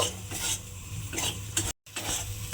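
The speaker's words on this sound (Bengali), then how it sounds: "দিয়ে আবারও চিনিটা খুব ভালোভাবে মিশিয়ে দেব" A spoon stirs sugar into a yogurt masala in a pan for a ridged gourd dish, giving steady scraping and swishing strokes with a light sizzle, close and alone, broken by a brief gap.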